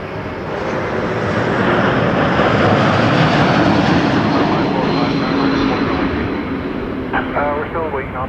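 An Air Canada airliner takes off at Toronto Pearson, its broad jet engine roar loud and steady throughout, while voices talk briefly near the end.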